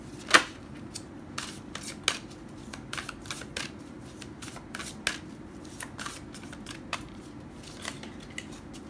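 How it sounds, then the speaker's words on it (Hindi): Tarot cards being shuffled by hand, a run of soft riffling flicks and taps at an uneven pace, close and quiet, with no one speaking. "चलिए हम फिर से करते हैं इनको शफल"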